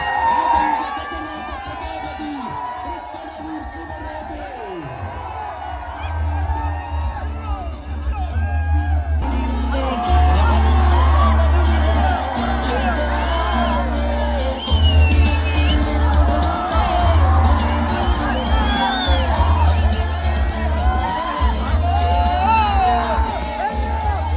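A large festival crowd at Anayadi Pooram roars, cheers and calls out names as a temple elephant makes its entry, a dense swelling clamor of shouts and whoops that grows louder partway through.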